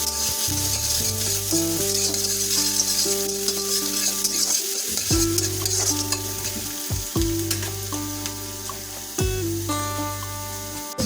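Chopped onions fry in a wok with a continuous sizzle and repeated scraping stirs of a spatula. Tonal background music plays steadily underneath.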